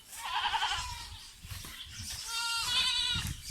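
Several goats bleat close by, overlapping and wavering, with quiet rustling in the background.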